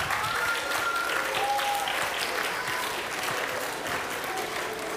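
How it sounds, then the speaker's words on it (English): A church congregation gives hearty, sustained applause for its Pathfinders and Adventurers youth clubs after a marching drill at an afternoon service, dense close clapping lasting about five seconds with a faint whistle or cheer in the crowd. "Let us give our Pathfinders and Adventurers a round of applause."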